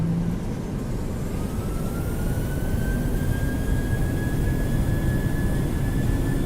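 Southwest airliner jet engines roar at takeoff power in Microsoft Flight Simulator, a loud steady low rumble with a thin whine that rises slowly, heard alone without talk.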